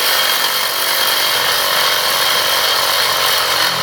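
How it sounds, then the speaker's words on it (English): A power tool cutting through a metal rear rack from a Honda XR150L motorcycle, a loud continuous grinding whine held steady and close with no pauses. "We're gonna take the rear rack to my house to get it cut"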